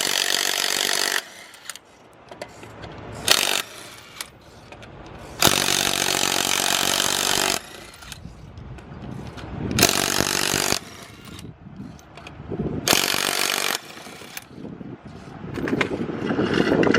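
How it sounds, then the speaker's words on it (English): An impact tool spins lug nuts off the driver's-side wheel of a 1998 Camaro during a brake job, sounding in several loud, whirring bursts of a second or two each, separated by quieter gaps of shop noise. "Like the power tool is just quick and simple."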